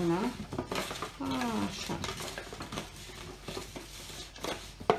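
Salted, peppered potatoes being mixed by hand in a dish, giving soft scraping and clinking against the container in irregular bursts, close and fairly quiet, with someone talking over it.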